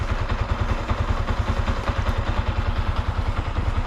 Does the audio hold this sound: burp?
no